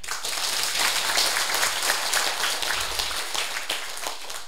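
Sustained applause from an audience at a political lecture session fills the hall, a dense wash of many hands clapping steadily with no speech over it.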